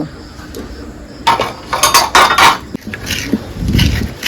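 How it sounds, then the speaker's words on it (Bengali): A coconut is cracked open in a kitchen, with a run of sharp hard knocks and clinks clustered in the middle, then a duller thud and scraping toward the end. "একটা নারকেল আমি এরকম ফাটিয়ে এবার কুড়িয়ে নেব"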